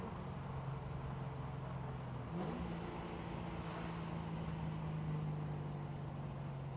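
Ford Mustang driving along a road, a continuous engine hum with tyre and road noise, a brief shift in engine pitch partway through, steady and moderately close.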